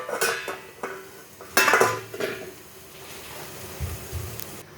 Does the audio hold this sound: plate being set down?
yes